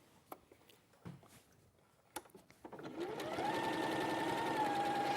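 Sewing machine stitching patterned fabric onto cream material: a few soft clicks and taps of handling first, then the motor whirs up into a steady, close, continuous stitching hum.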